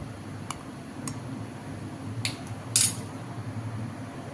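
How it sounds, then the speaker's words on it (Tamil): Garlic and chili powder being pounded for mor kulambu, with a few sparse, sharp metallic taps against a low steady background hum, no speech. "மிளகாத்தூளை சேர்த்து இந்த மாதிரி நல்லா இடித்து எடுத்துக்கணும்"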